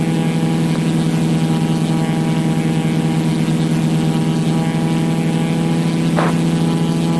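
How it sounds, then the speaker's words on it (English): A propeller aircraft's engine drones inside the cockpit during a climb over Glacier Bay, Alaska, with the prop set to 2700 RPM: a loud, unbroken, even hum with a strong tonal buzz and no talking. "I'm going to go ahead and pull the prop back 2700 RPM."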